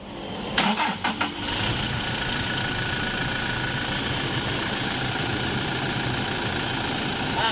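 A Toyota Hilux with a 1GD engine starting after repair, cranking briefly before catching and settling into a steady, loud diesel idle heard up close.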